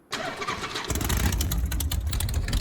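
A motorcycle in the DayZ video game cranks and starts, settling quickly into a steady, close engine rumble with no talking.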